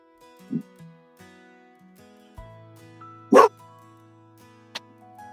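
Dog barking indoors, a few sharp isolated barks spaced apart, one loud and close in the middle, over a quiet background of soft music.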